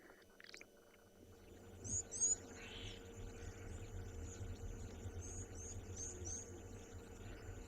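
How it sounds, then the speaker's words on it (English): Birds chirp in the dry winter bush of a South African safari reserve, with a few distinct call bursts partway through and a repeated series of short chirps later, fairly faint over a steady low rumble of an idling vehicle. "Can you hear the birds?"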